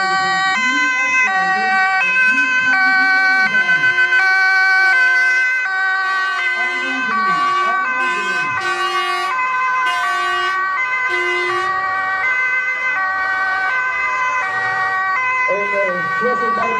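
Several fire engines sound their sirens together at the close of the Alkmaar Ontzet celebration, loud and continuous wailing tones overlapping throughout, with faint crowd voices beneath.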